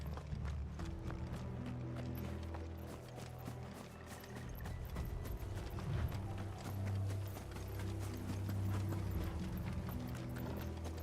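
Steady clip-clop of horse hooves trotting along at a brisk rhythm in the video game Final Fantasy XVI, with faint mechanical rumbling underneath for several seconds.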